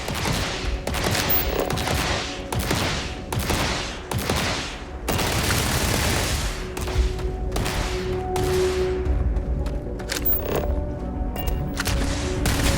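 Rapid bursts of automatic gunfire at a firing range in the sci-fi game Starfield, loud and close, repeating in dense volleys with short gaps, then turning into a continuous stretch of shooting with a faint tonal hum underneath.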